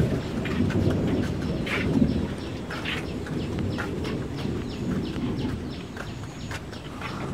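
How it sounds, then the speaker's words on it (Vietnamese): Thunder rumbles low and continuous through steady heavy rain, a loud broadband roar filling the whole stretch without pause and without voices. "Sấm chớp rất là to rồi nãy."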